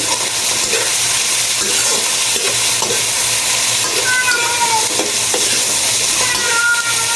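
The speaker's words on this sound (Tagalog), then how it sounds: "Binuhos ko yung gulay natin. Haluin lang po natin." Vegetables for pansit being stirred in a hot frying pan: loud, continuous sizzling with rhythmic spatula scrapes and clatter, close up and uninterrupted.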